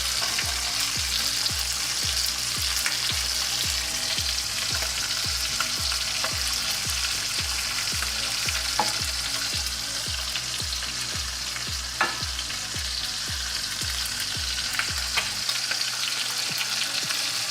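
The fat cap of a sous vide New York steak sears in a hot pan, a loud steady sizzle beneath rhythmic low thumps that stop near the end.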